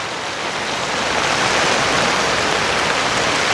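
Rain falls steadily outdoors in rural Thailand, a close, continuous broadband hiss of drops that holds at an even, loud level throughout with no talking.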